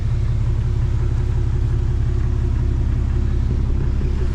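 A Cushman Trackster engine runs steadily at idle, a constant low rumble with no breaks, close and fairly loud throughout.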